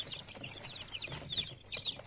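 Chicks and hens in a coop at feeding time give soft, high peeps and low clucks, faint and continuous against a quiet background.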